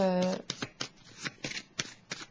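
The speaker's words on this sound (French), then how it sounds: "Je vais piger une carte sur celle de la transformation pour le signe du cancer." Tarot cards are shuffled and drawn in a quick series of crisp papery riffles and snaps, close and fairly loud, after a brief voiced sound at the start.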